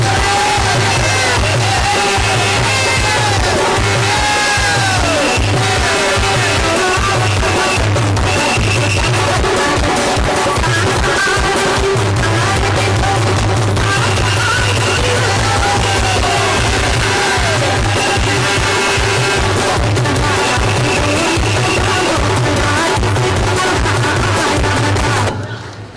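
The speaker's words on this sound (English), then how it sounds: "put your hands together and give a rousing round of applause for Councillor Narsingh Rambaran" Audience at a public political meeting in Gaston Courts, with sustained loud cheering, whooping and yelling from a crowd, rhythmic clapping, and amplified shouts over it, continuing throughout before cutting off.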